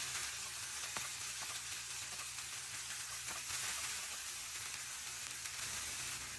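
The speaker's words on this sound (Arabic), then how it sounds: "ورح نحرك الدجاج مع البهارات لحتى يختلط كتير منيح" Chicken with shawarma spices, finely chopped onion, and green and red peppers sizzles steadily in a pan while being stirred, a continuous close hiss with faint scraping.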